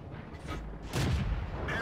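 A tank gun firing in a tank video game, one heavy boom about halfway through over a constant rumbling engine-like background, with no voices.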